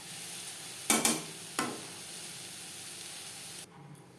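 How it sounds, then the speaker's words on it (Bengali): Moringa (drumstick) leaves with grated coconut are stirred in a pan as they fry. Two sharp scraping strokes rise over a soft, steady sizzle, then the hiss drops away at the end. "নাড়াচাড়া করে শাকের মধ্যে যে জলটা আছে সেটা আমি পুরোপুরি শুকিয়ে দেব।"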